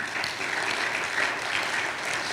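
A church congregation applauds during a sermon, a steady dense wash of clapping heard from a moderate distance with no clear voices.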